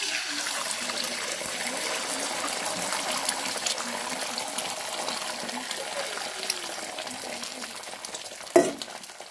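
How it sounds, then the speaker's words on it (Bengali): An egg with a little salt fries in hot oil with a loud, continuous sizzle that lasts the whole time, nearby and unbroken. A brief clatter sounds near the end, and no one speaks. "ডিমটাকে ভালো করে ফ্রাই করে নেব।"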